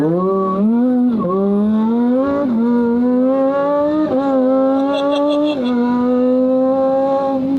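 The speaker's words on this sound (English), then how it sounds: "I love the sound of the supercharger whining." A loud, high-pitched supercharger whine rises steadily as a Lamborghini STO accelerates, dipping briefly at each gear shift before climbing again.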